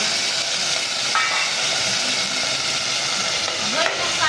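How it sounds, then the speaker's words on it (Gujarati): Steady bright sizzle of spices crackling in hot oil, loud and continuous throughout with faint stirring underneath. "વઘાર થઈ ગયો જોરદાર હો"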